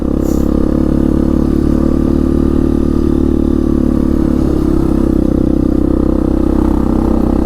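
A 1998 Yamaha Big Bear 350 4x4 ATV engine runs loud and steady while riding, a continuous low drone lugging in fifth gear with mechanical clatter throughout and no voices.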